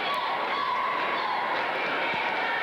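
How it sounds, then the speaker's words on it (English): A noisy crowd fills a high school girls' basketball gym with a steady, loud roar of cheering voices throughout. "Boy, a noisy crowd."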